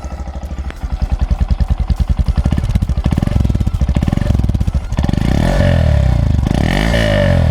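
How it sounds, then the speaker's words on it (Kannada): A 2025 Honda Monkey 125 single-cylinder motorcycle engine thumps at idle with a rapid regular pulse, then revs up into a louder, higher, steady drone, close by. "ಸೊ ಇಂಜಿನ್ ಸೌಂಡ್ ನೋಡೋಣ ಬನ್ನಿ ಯಾವ ಥರ ಕೇಳುತ್ತೆ"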